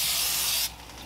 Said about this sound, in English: Gonna spray that down.